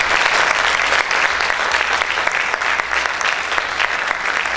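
A church congregation at a fasting service applauds loudly and steadily in a dense, sustained wash of clapping from many hands, with no break for the whole stretch.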